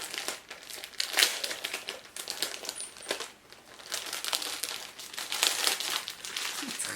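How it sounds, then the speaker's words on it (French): Paper crinkles and tears in repeated bursts at close range as a tightly glued paper package is pried open, with no speech. "j'ai ouvert mon petit paquet"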